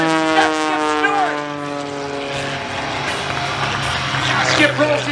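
Skip Stewart's aerobatic propeller plane Prometheus snarls overhead at an airshow, a loud engine drone with shifting pitch as it maneuvers, while an announcer talks.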